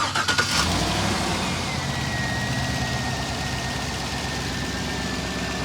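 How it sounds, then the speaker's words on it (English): A 2009 Cadillac Escalade engine cranks briefly and catches, then settles into a steady, even idle close by, with a faint whining tone running over the low rumble and no talking. "Go ahead and fire it up."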